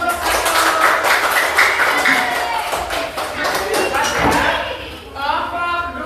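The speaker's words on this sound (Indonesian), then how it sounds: "tepuk tangan untuk kelompok 1" Students in a classroom give group 1 a round of applause, with many hands clapping in a dense, steady patter and voices mixed in.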